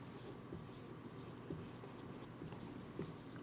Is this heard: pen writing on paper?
yes